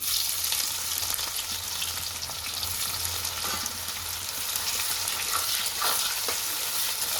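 Onions frying in oil for chicken biryani, a steady dense sizzle and crackle with occasional stirring sounds, close and continuous with no talking.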